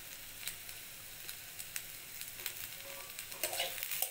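Ivy gourd, potato and carrot stir-fry in a pan, sprinkled with roasted cumin and dried chili powder, giving a soft, steady sizzle broken by scraping stirs that grow louder and busier toward the end.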